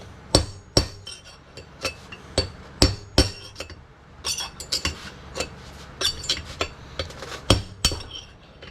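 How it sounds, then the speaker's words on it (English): Wheel bearing races being punched out with a hammer: sharp metallic strikes in an irregular series, some clustered in quick pairs, close and distinct over a quiet background. "All right, let's punch these races out."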